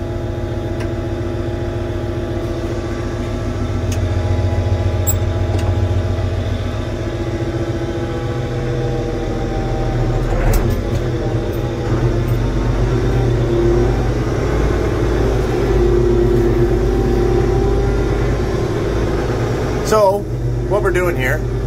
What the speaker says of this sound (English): This Perkins engine, I'm telling you, this thing is a beast.